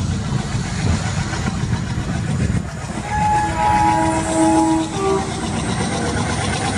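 A diesel locomotive with engine number 14029 hauls a Delhi–Bikaner passenger train and accelerates, giving a loud, steady rumble and rolling rail noise close by, with a long horn sounding near the middle.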